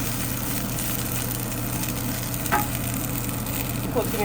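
Mint, coriander and green chillies frying in a pan of oil for a biryani, giving a loud, dense, continuous sizzle with a low steady hum underneath and a faint scrape or two, with no talk.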